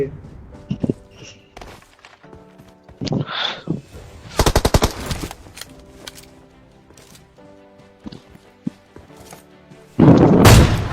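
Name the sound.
gunfire from video game PUBG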